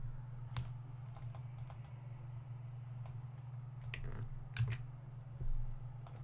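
Someone types on a computer keyboard in short irregular bursts of close, light key clicks over a steady low hum, with no talking.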